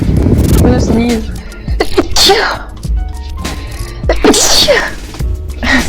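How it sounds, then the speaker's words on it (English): A person sneezes, with a sharp burst standing out among surrounding talk; speech before and after the sneeze fills most of the moment. "I'm gonna sneeze."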